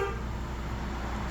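A Hyundai Grand Starex van fitted with a Medica Gold 8 two-way car alarm gives a short horn chirp on locking, sounding once, near and loud over a steady idling background.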